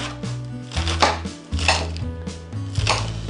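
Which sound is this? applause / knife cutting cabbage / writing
knife cutting cabbage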